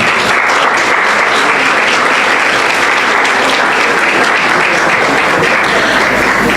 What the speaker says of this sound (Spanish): Denle un aplauso al Señor mientras tanto